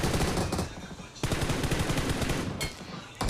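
Sustained gunfire in the BGMI / PUBG Mobile mobile shooter, dense rapid bursts that run nearly unbroken and loud across the whole stretch with only brief dips, and no voices.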